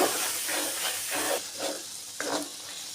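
Ginger and cumin powder sizzle in hot oil while being fried for beef bhuna khichuri, a steady crackling hiss with soft surges and a sharper pop near the end, close and alone.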